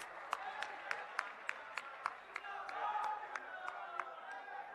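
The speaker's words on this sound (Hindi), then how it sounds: "आप तालियों के साथ उनका स्वागत कीजिए।" A crowd at a Congress party townhall in Patna claps to welcome a speaker, with sharp rhythmic unison claps rising through scattered applause and cheering, plus some voices in the mix.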